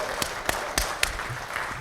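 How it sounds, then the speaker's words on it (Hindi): A seminar audience applauds for Suresh sir with fairly faint, scattered claps coming at a slow, even pace, with no talk. "एक बार जोरदार तालियां सुरेश सर के लिए।"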